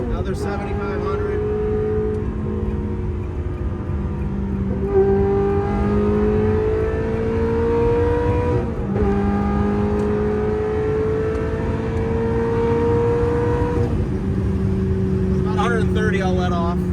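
A 2000 Ferrari 360 F1 Modena engine screams at high RPM, its pitch climbing through the gears in long rising sweeps with brief dips at each shift, loud and steady from the cabin.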